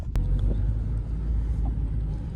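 A Renault Twingo 1 being driven slowly around a parking lot gives a steady, close, low engine rumble, with one sharp click near the start and no talk.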